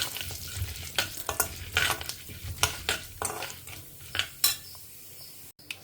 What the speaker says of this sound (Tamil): ஸோ கடுகு பொரிய ஆரம்பிச்சிருத்து, பருப்புகள்லாம் செவக்க ஆரம்பிச்சிருத்து